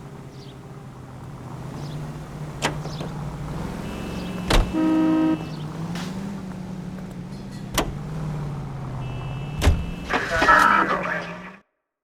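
A car driving in L.A. Noire, its engine a steady low hum throughout, with a couple of sharp knocks and brief tonal blips, while people talk over it before it cuts off.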